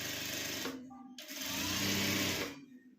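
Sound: sewing machine stitching blouse fabric

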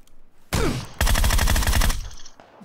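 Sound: shotgun fire in a video game

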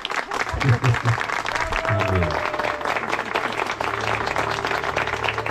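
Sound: applause at a wedding ceremony

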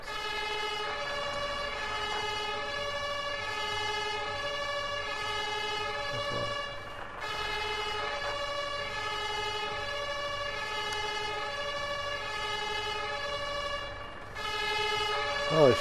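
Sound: British fire truck siren in video game Firefighters The Simulation

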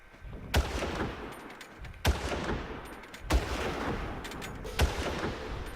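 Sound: gunshots in the video game Far Cry

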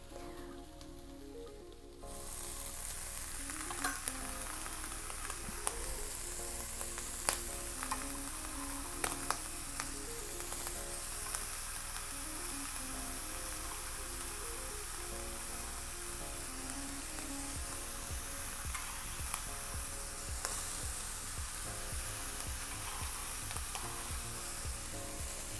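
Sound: potatoes, onions and ham frying in an AMC pan

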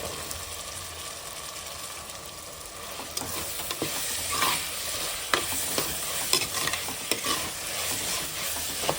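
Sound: frying and stirring potatoes in pan

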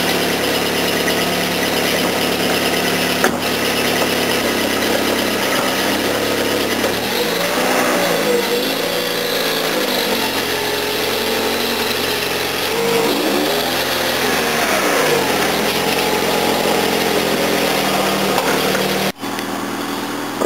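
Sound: car engine running and revving

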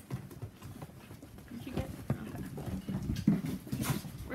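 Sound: puppies

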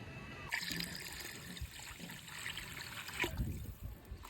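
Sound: water being poured into cooking

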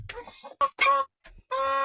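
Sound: hen clucking

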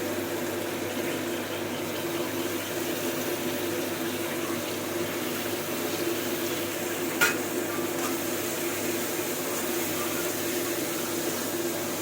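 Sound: cabbage stir-frying in a wok with tomatoes

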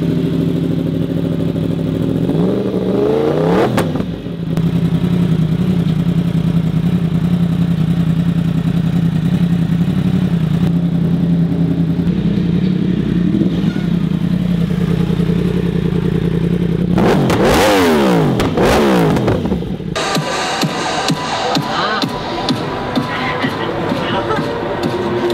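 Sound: new BMW motorcycle engine revving while riding

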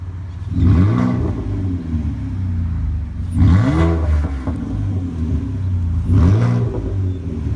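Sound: car engine revving with electric exhaust cutout opened

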